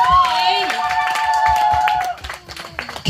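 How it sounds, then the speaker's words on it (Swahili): A church congregation claps and ululates during worship, with a long high trilling ululation over dense, steady hand claps, close and loud, fading toward the end. "Pigia Yesu makofi na kigelegele."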